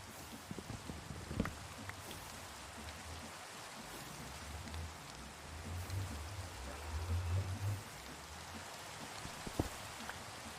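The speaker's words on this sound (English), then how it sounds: "thank you for turning off the rain" Steady rain falling in the Minecraft video game, a soft continuous hiss of drops that runs quietly throughout, with a few faint clicks and low rumbles beneath it and no talking.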